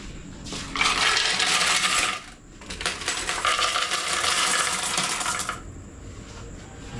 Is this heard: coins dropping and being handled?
yes